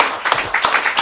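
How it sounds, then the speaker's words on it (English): Brief burst of audience applause at a talk event, a short patter of many hands clapping at moderate loudness with no voices over it. "Give her an applause."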